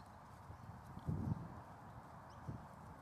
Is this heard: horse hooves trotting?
yes